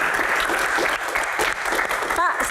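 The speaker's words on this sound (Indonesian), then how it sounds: "tepuk tangan dong" A crowd claps loudly and steadily in dense applause, close and sustained throughout.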